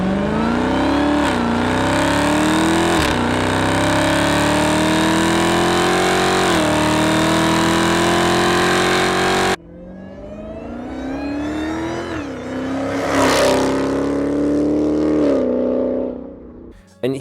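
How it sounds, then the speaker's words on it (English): A supercharged Dodge Hellcat engine revving loudly with a rising high-pitched whine, first steady and continuous, then after a brief cut swelling through a second run of climbing revs before dropping away. "Here is a Hellcat. Let's listen to the whine from that."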